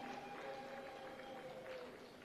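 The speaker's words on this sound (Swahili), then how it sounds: "Makofi mingi kwake" Audience applause at a charity fundraising event for children with sickle cell disease, a steady dense clapping that fills the hall at even loudness throughout, with no voices over it.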